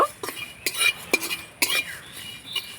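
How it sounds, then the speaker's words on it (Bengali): Spoons scraping and clinking against a pan as panch phoron spices are stirred and dry-roasted with no oil, in several short sharp bursts with quiet gaps between, close and fairly faint. "এবার আমি মশলাগুলোকে নাড়াচাড়া করে ভেজে নেব"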